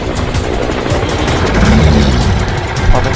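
A cartoon helicopter in a children's monster-and-dinosaur story drones steadily and loudly with a low rotor rumble, continuous and close with no speech over it.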